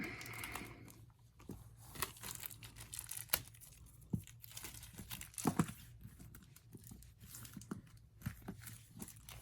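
Packing tape on a parcel being sliced open with a blade, close up and quiet, with scattered crinkles, tearing and sharp ticks over a low steady background hum.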